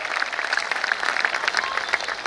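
An audience at a Hindi comedy poetry gathering, a hasya kavi sammelan, claps steadily for a couple of seconds, a dense, even patter of many hands at moderate volume with no speech over it.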